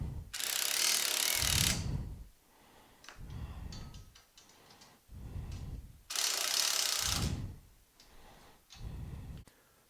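A ratchet tightens flange nuts on an ATV brush guard, producing close, loud bursts of rapid clicking in repeated strokes separated by brief pauses.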